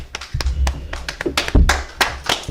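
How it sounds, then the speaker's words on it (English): A congregation at a Sabbath service claps in scattered, uneven bursts, with some louder thumps and a few voices mixed in. "Let's clap it up."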